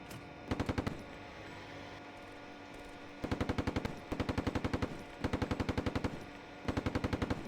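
Bursts of rapid machine-gun fire in the tank combat game Steel Beasts Pro PE, several fast-rattling volleys of about a second each separated by short pauses, loud and close over a steady low rumble.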